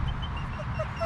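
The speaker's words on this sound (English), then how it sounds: "This is a cool looking dog right here." A blonde dog resembling a German Shepherd whimpers softly, with thin high whines drifting over a low steady rumble of background noise for about a second.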